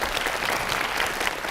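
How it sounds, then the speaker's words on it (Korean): Audience applause at a Seongnam city lecture by Lee Jae-myung, a dense, steady wash of many hands clapping close up with no break for the whole short stretch. "박수 한번 쳐주세요."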